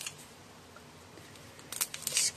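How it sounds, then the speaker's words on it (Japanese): Scissors snip through the neck of a partly thawed quail being butchered: a quiet stretch, then a few short, crisp cuts close by near the end, with no talking. "首の両脇からハサミを入れていきます。"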